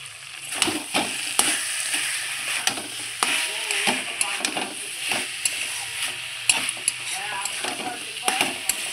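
Mixed vegetables for a vegetarian five-vegetable dish frying in a pan, a constant sizzle under repeated scraping strokes of a spatula at an irregular rhythm, close and fairly loud, with no talk.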